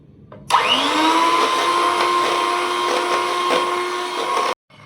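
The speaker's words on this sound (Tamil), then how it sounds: "இப்போ வந்து இதை பீட் பண்ணிக்கலாம்." Electric beater whipping one cup of whipping cream for a chocolate cake: a loud, steady motor whine starts abruptly and holds for about four seconds, then cuts off sharply.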